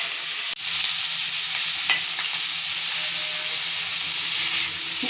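Cauliflower frying in oil in a pan, a steady bright sizzle and hiss that holds evenly throughout, starting just after a brief clatter, with no voices.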